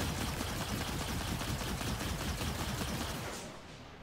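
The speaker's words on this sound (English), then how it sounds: "Give it a little warning shot." Rapid, steady gunfire from a ship in the space game Star Citizen, a dense continuous burst of shots that stays loud for several seconds before tapering off at the end.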